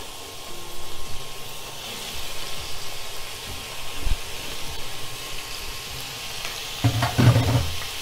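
Cleaned prawns dropped into a hot pan of oil: a soft frying crackle that swells into a louder, bubbling sizzle near the end, close and without talk.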